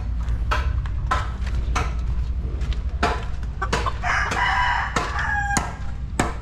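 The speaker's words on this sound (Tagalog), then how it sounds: "Daming manok." Chickens cluck and squawk steadily at close range while a rooster crows loudly partway through, with more crowing from other birds around.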